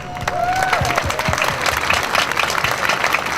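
Steady applause from an audience at the senior awards of the Twin Lakes National Fiddler Championship, clapping continuously and fairly loud throughout, with a faint voice and a brief whistle-like tone riding over it.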